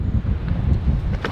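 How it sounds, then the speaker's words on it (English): Strong wind buffets the microphone at the summit of Breakneck Ridge in New York, a steady low roaring rumble with gusty swells and no break through the short stretch. "It's very windy out here."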